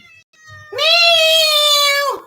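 A cat gives one loud, drawn-out meow close by, rising and holding for over a second before dropping off, after a quiet moment with faint background murmur.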